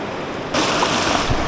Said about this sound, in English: This river is one of maybe 3 water sources that I'm gonna get to pull water from on this whole trip